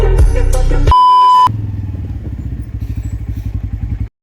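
A motorcycle ride, opening with loud electronic beeps and a sustained tone, then a close engine and road rumble with rapid rhythmic pulsing that cuts off abruptly near the end.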